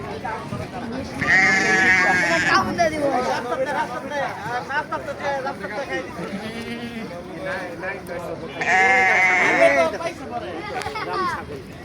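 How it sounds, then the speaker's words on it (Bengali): Foreign goats at a livestock exhibition on an open field, bleating loudly and repeatedly in two main bursts, close by, over a background of crowd chatter. "এখন দেখবেন কিছু বিদেশি ছাগল।"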